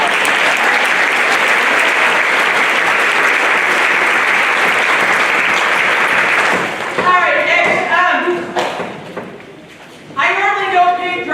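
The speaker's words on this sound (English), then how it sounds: "Give them a round of applause" Loud, dense audience applause at a school band concert fills the first half, then fades as harmonic speech-like voices take over near the end.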